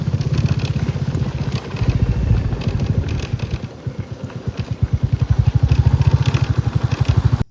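A motorcycle engine runs close by, its throbbing exhaust pulses rising and steadying as the bike moves off and rides along.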